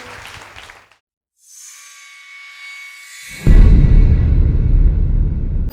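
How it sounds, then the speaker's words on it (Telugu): A church congregation bursting into loud, sustained applause after a quiet stretch with a faint tone, the dense clapping swelling suddenly and continuing strongly to the end. "గట్టిగా చప్పట్లు కూడా దేవుని మనం మహిమపడదాం"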